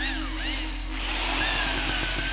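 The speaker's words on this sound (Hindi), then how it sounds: "ऊपर ड्रिल करो।" Power drill boring into a wall above a board during an indoor installation, a steady loud whine running throughout with shifting pitch and gritty grinding toward the end.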